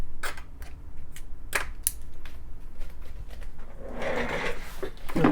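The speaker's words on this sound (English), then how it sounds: "so I'm gonna remove them." A small screwdriver clicks against and removes screws from a MacBook Air trackpad, sharp scattered ticks and taps up close, followed by a rustling, scraping handling sound toward the end.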